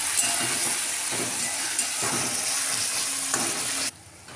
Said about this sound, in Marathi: इथे घालणार आपण टोमॅटो, छान मऊ होईपर्यंत भाजून घ्यायचं याच्यामध्ये